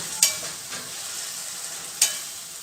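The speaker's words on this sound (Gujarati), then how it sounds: "લીલું લસણ એમાં નાખી દઈશું અને એ પણ તેલમાં આવી રીતે આપણે શેકાવા દઈશું" Chopped green garlic frying in oil, a faint steady sizzle with two sharp scraping strokes of a spoon against the pan about two seconds apart, close up and without speech.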